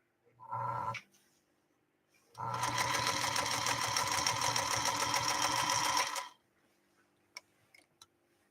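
A 1952 Singer Featherweight sewing machine stitching, close and loud: a short burst, a pause, then about four seconds of rapid, even needle chatter, followed by a few faint clicks.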